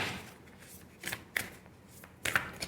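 Tarot cards handled close up, with a few quiet shuffling and card-drawing snaps spaced over a soft background and no speech.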